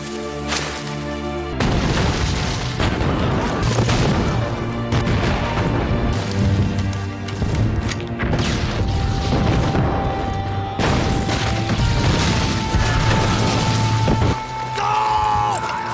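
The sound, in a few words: bomb explosions in a war film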